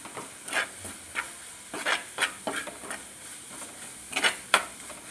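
Kerala-style sardine curry masala paste, made with kudampuli water, cooks in a pan, giving soft irregular bursts of scraping, spluttering and bubbling at close range with no talking.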